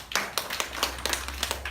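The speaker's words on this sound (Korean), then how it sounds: "가장님들 우리 박수 한번 치죠." A church congregation claps together, a burst of irregular hand claps at moderate level filling the short stretch without speech.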